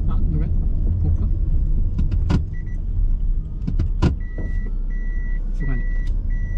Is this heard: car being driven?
yes